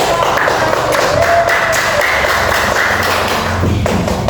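Group applause following a class group's discussion presentation in a teacher-training session, dense tapping claps that run steadily throughout with some thumping knocks mixed in.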